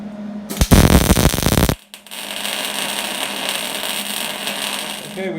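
Go-kart front end being welded, a loud harsh buzzing crackle bursting for about a second, then a lower steady hum and hiss that runs on to the end.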